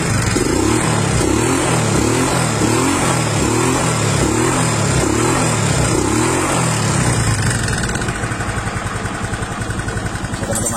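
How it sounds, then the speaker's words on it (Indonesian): Motorcycle engine with valve clearance needing adjustment, running loud and close with a steady rhythmic ticking knock for about seven seconds before the pulsing eases into a smoother idle. "cuman pada bagian klep itu harus di setel karena yang berbunyi itu bukan bagian dalam, cuman klep."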